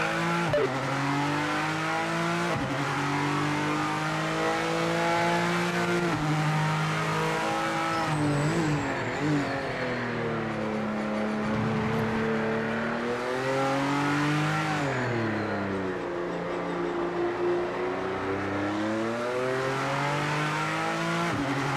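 A race car in the racing video game Project Motor Racing revs up and down through repeated gear shifts, its engine whine rising and falling with occasional tire squeal.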